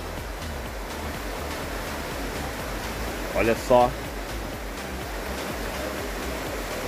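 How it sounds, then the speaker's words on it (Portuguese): A steady rush of water runs through a stream at a campground in Riozinho, Rio Grande do Sul, forming a constant broadband wash while someone speaks briefly over it. "Olha a água correndo aqui no fundo aqui"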